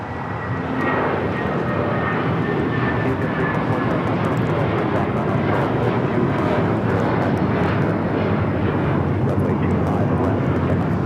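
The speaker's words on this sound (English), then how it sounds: "This is United Airlines 1843 taking off to Washington Dulles on the 757-300" A United Airlines Boeing 757-300 jet takes off at Los Angeles airport with a loud, steady engine roar that fills the whole stretch. The thunder holds near and constant throughout, with no talk over it.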